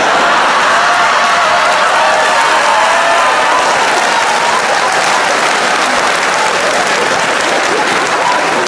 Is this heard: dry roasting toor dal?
no